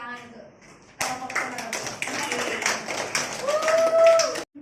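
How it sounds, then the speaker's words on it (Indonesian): Students in an Indonesian classroom clap for a group, a burst of many hands starting abruptly after a moment of quiet voices and continuing briskly with patterned beats and a whistle-like tone before cutting off. "Tepuk tangan untuk kelompok"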